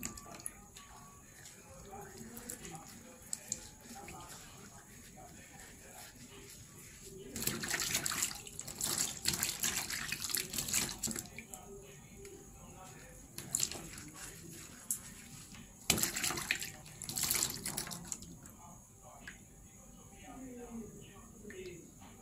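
Water running from a bathroom tap while a face is rinsed, heard in two louder splashing bursts between quieter stretches of handling, with someone talking over parts of it.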